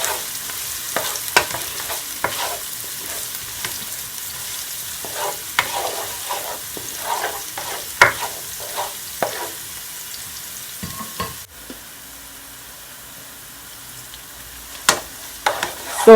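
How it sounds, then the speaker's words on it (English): Vegetable fried rice ingredients sauté in a pan, a steady, moderate sizzle broken by repeated scraping and clattering spatula strokes, with a quieter stretch of gentle frying near the end and no voices. "I'm just gonna allow it to saute just for a couple of seconds. Just gonna mix it."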